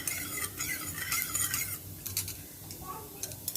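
A spoon stirring a mixture of gram flour paste with unroasted sesame in a bowl, with scraping and clinking that come in bursts, fairly close and moderate, fading briefly toward the end.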